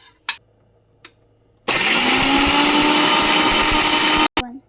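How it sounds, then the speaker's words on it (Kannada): A mixer grinder runs a jar of coconut, pepper and cloves for a few seconds with a loud, steady whirring roar, briefly stops, then restarts; short clicks and handling knocks come before it. "ಮಿಕ್ಸಿ ಮಾಡ್ಕೊಂಡು ಬರೋಣ."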